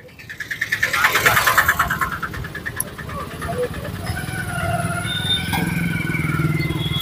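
A tractor's engine chugs and rumbles along a village road, rising to a loud pulsing throb near the start and then settling into a steady running drone, with people talking over it.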